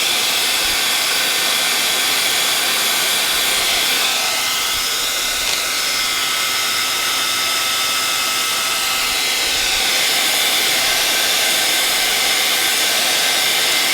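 A heat tool blows steadily to melt textured embossing powder, a continuous loud airy hiss and whir that holds for the whole stretch with only a slight dip partway through.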